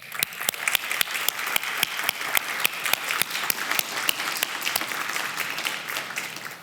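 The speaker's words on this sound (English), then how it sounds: "have the graduands join me in giving a round of" Graduands at a fall convocation ceremony give a round of thankful applause, a sustained crowd clapping with a few sharp, evenly spaced louder claps standing out near the microphone throughout.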